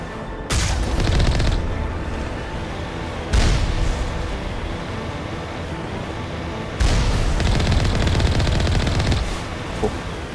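Turret gunfire in the video game Mass Effect: a loud, steady stream of rapid automatic shots with heavier booming bursts breaking in at intervals, no talking.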